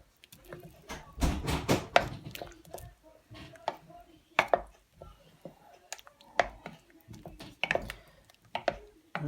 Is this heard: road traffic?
no